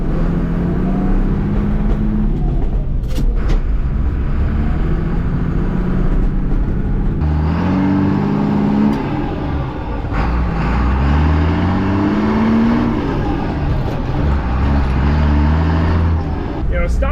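A Ford F700 dump truck bought at auction as inoperable and driven without a clutch, its engine rumbling steadily with shifting revs throughout, close and loud, under someone talking.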